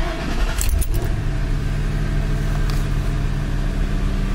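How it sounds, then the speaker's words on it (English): A car recently repaired for misfire codes P0306 and P0316 starts with a brief clattering crank and catch, then settles into a steady, smooth idle hum, close and fairly loud, with no talking. "So I'll start the car up and see what happens."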